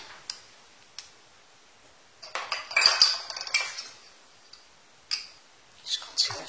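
Small cake molds being filled and packed with pasta salad and macédoine mixture, with close spoon scrapes and clinks against metal and dishes coming in short bursts between quiet gaps.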